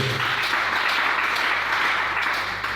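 A church congregation at a French-language service applauds together to acclaim the Lord, a dense, steady wash of clapping sustained for a few seconds with no voices over it.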